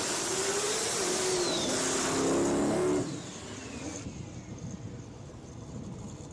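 A Fox Body Mustang race car roars down the track at an NMRA Spring Break Shootout drag event, a loud, sustained engine howl that drops off sharply partway through to a fainter, distant rumble.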